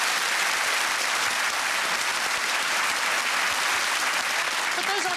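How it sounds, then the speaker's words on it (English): Studio audience applause from a comedy quiz show panel, a dense, steady wall of clapping that fills the whole stretch at an even level with no voices breaking through. "applaud yourselves."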